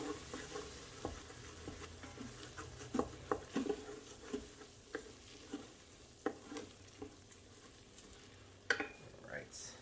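A utensil scrapes and stirs along the bottom of a cooking pot with faint sizzling, making soft, irregular scraping strokes and light clinks, quiet and close.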